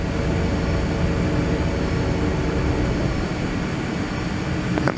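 An airliner climbing out after takeoff in a flight simulator home cockpit, its engines a steady, loud, close broadband roar that holds unbroken throughout with no talking.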